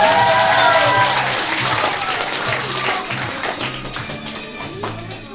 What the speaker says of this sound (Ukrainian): найкращий подарунок оплески